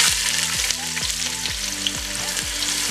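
Sliced onions frying in hot oil with shahi jeera for chicken tehari, a steady dense sizzle throughout, close up, with a faint rhythmic low thump repeating about every half second underneath.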